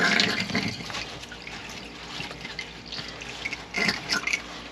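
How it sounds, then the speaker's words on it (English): Hot water fills a container where a moose skull soaks during European-mount cleaning, a close, rushing, splashy pour that swells and fades with a louder gush near the end. "then I'll just fill it back up again with hot water"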